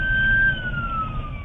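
A police siren wails loudly, its high tone sliding slowly downward over a rumbling vehicle background, as police race to a 911 call in Shreveport.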